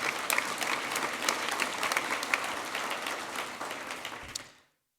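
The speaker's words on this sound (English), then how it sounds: "I'd just like to ask for another round of applause for these people" Applause from an audience honoring a team at a Small Business Week event in Denver, steady dense clapping filling the room for about four seconds before stopping abruptly.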